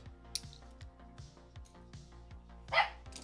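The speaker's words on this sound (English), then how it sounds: "Little dog heard something and fucking went for it." A small dog barks in a few sharp bursts, the loudest yap near the end, close by over a steady low background hum.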